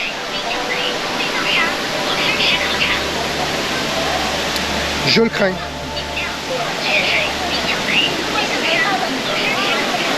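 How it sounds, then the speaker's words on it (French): Steady rushing waterfall roar from close by, heard from a path passing behind the falls on slippery steps, with a person speaking briefly over the constant wash of water. "On va passer derrière la cascade"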